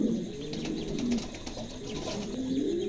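House pigeons coo repeatedly inside a cage, soft low rolling calls rising and falling in close succession over a faint steady background.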